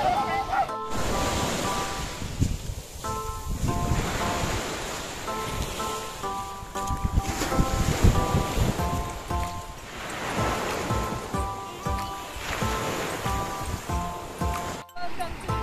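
Ocean waves wash continuously onto the sea shore at Barangay Tumarbong in a soft, rolling hiss that swells and recedes, with people talking nearby over the surf.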